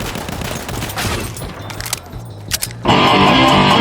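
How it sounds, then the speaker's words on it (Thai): Frommer Stop pistol firing rapidly in a World War I video game, a dense burst of sharp gunshots in quick succession, loud and close, ending in a bright sustained noise. "ปืน Former Stop ปืนจิ๋วจากคาสเกลที่มีจุดเด่นในเรื่องอัตราการยิงที่สูงมาก ๆ"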